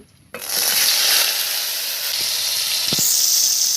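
Sliced eggplant dropped into hot oil in a wok bursts into a loud, steady sizzle and hiss right after a quiet start, with a few small pops and spatters along the way.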